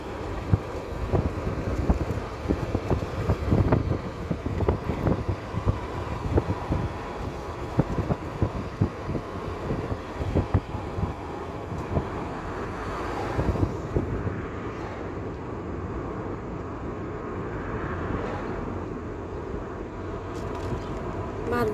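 Wind blows across an outdoor microphone in a continuous rough rumble with buffeting gusts, loud and close throughout, easing slightly toward the end.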